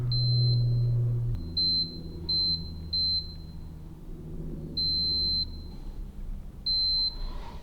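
A multimeter emits short high beeps during a continuity test on a Buick generator, six separate tones of varying length spaced irregularly, clear above a low background hum, with no talking.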